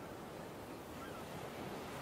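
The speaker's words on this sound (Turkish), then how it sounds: "duymuyor musun dalga seslerini?" Sea waves washing in a steady broadband roar, with surf and wind blowing across the microphone, continuous and fairly faint, with no voices over it.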